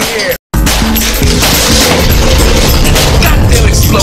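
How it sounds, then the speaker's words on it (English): A loud, dense crash and boom from a video game explosion, filling the whole clip after a brief gap of silence near the start and rumbling on with sustained debris-like noise. "Goddamn explosion, man!"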